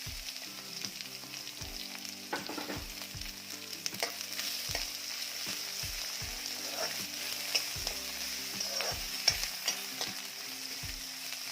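Onion and green chillies fry in an oil-filled pan, a steady close sizzle broken by regular scrapes and knocks of a spatula stirring, with no voices.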